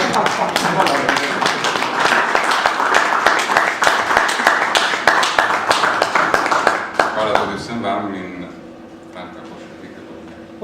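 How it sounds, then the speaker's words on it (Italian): An audience at a talk on the Aosta Valley claps steadily and loudly for about seven seconds before the applause fades out. Background voices remain faintly audible afterward. "volevamo almeno un applauso"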